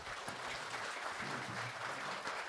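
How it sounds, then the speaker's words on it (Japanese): Forum audience applauding the panelists at a zero-nuclear and renewable-energy event featuring Hosokawa Morihiro and Koizumi Junichiro, a dense, steady wash of hand claps sustained evenly throughout without talk. "パネラーの皆さんに拍手もう一度お願いします"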